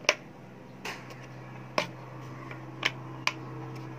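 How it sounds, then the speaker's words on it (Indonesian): A plastic lid on a multipurpose kitchen jug-style bottle clicks shut, giving several sharp, close, isolated clicks spaced irregularly over a quiet background, with no talk. "kena pastikan tudung dia bunyi klik"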